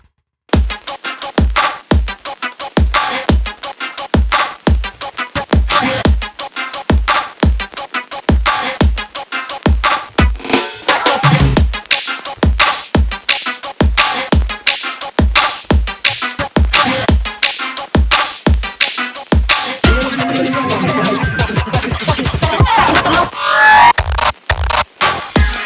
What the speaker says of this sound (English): Yeah, and then I had the steel drums, which I took from the original.